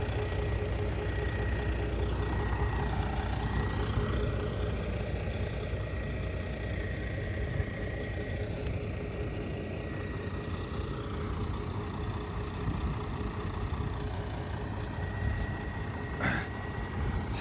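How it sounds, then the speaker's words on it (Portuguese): Sugarcane trucks with automatic transmissions sit idling while they wait to load, a steady low engine rumble that holds throughout with no voices. "Já tem outros caminhões ali esperando para carregar lá."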